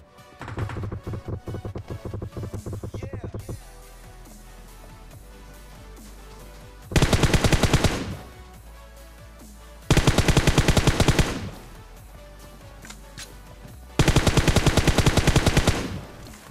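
Automatic gunfire in PUBG Mobile on a snow map: three or four loud, dense bursts of rapid shots separated by quieter stretches of game ambience, with an earlier section of steady background sound.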